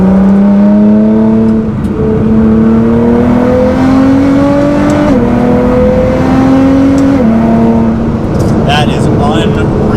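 Nissan GT-R accelerating hard in third gear on a track, engine note climbing steadily with a couple of brief shift dips, loud and close, a voice speaking over it.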